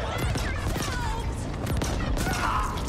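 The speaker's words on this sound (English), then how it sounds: "We could try our new shotgun now." A shotgun in the action game The Ascent fires several loud blasts in quick succession among dense combat noise and scattered impacts, with a voice speaking underneath.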